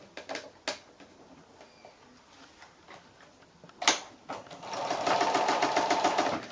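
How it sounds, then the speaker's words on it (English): A sewing machine whirs in a steady fast run near the end, stitching a quarter-inch quilt seam, after a few scattered clicks and taps at the machine. "your sewing machine should fit in there fine"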